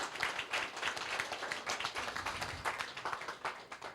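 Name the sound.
audience applause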